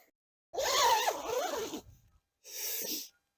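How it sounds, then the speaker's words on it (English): Zipper on a Durston X Mid Pro 2 tent being pulled, two close, scratchy zipping strokes separated by a short pause, with no talking. "The zip's over here."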